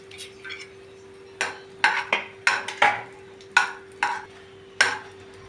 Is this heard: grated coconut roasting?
yes